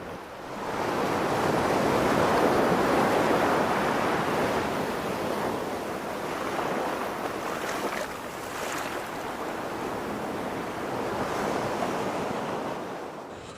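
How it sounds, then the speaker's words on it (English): Ocean waves and swell surge against the Cornwall coast below a clifftop, a steady broad roar of surf with gentle swells in intensity and some wind buffeting the microphone throughout. "look at the waves. There's some swell coming in on those waves now"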